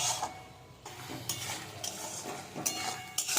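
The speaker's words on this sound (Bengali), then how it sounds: "কচুরলতিটা দিয়ে এবার একটু নাড়াচাড়া করব।" Taro stolons (kochur loti) stirred in a pan, repeated metal spatula scrapes and clinks against the pan over a low sizzle, close by and in an uneven rhythm, with no voices.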